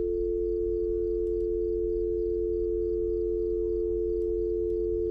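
A steady telephone dial tone from a motel phone in the horror game Fears to Fathom, a continuous low hum that holds unchanged from start to finish, with a couple of faint clicks.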